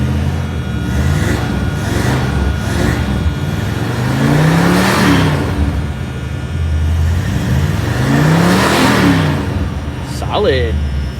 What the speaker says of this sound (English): So just running the car, she's nice and smooth